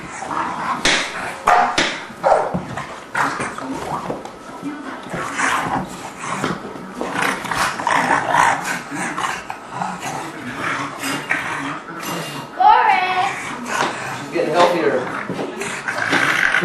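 An English Bulldog and an English Mastiff pup play roughly, with near-constant growls, yips and barks, loud and close, and people talking over the scuffle throughout.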